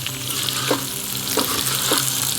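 Steady crackling sizzle of potatoes frying in a pan, hunter-style, with a few soft scraping stirs at regular intervals.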